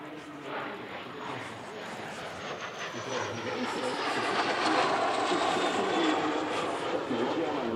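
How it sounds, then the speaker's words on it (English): Polish-built Lim 2B jet, equivalent to a MiG-15bis, flying in the number 2 position at the Radom Airshow, a jet roar that builds from moderate to loud as it passes with a sliding whine, with commentary underneath. "Flying in the number 2 position, a Polish-built Lim 2B, equivalent to the MiG-15 BIS."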